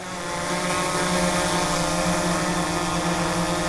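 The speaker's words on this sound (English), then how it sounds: "A lot of wind." Steady broadband rush of wind mixed with a droning propeller whine from a SplashDrone 4 descending to land on a beach, loud and continuous throughout with no speech.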